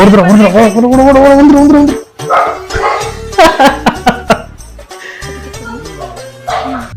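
A dog barks and yips loudly and close by, a wavering howl-like bark followed by a run of sharp, rapid barks.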